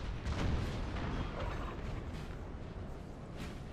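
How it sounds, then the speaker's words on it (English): Howitzer artillery booms during a battle in Napoleon: Total War, a steady, heavy rumble of distant cannon fire with overlapping blasts rolling on throughout. "Where's this artillery at?"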